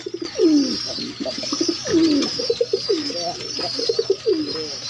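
Pet pigeons kept as a breeding pair with chicks coo loudly and close, repeating throaty rolling calls every second or so, with fainter chirps and sparse background noise between them.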